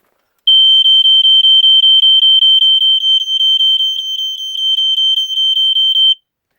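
A BRK 1200 smoke detector with escape light sounds its alarm up close: a loud, shrill, rapidly pulsing high beep repeating steadily for about six seconds, then stopping.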